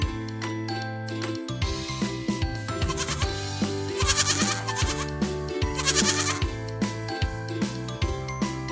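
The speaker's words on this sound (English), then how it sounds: "This is goat. Goat's young one's called kid." A goat bleats several times over a jingling, tinkling musical backing, the animal calls repeating in short wavering bursts amid the bright melody, with no speech.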